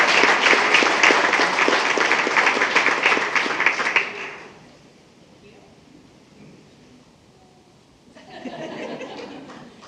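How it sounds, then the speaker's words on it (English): Applause breaks out at a school district board meeting for a group of honoured high schools, a dense round of clapping that fades after about four seconds, then returns more faintly near the end. "I interrupted the round of applause"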